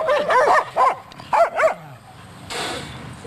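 A dog barks several times in quick yips close by, followed by a short burst of rustling noise, with no talking.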